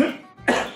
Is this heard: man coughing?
yes